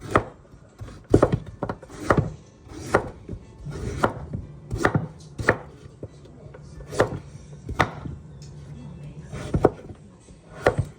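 A knife chops repeatedly through hard pumpkin skin on a cutting board, sharp thuds at an uneven rhythm, close and clear with no talking.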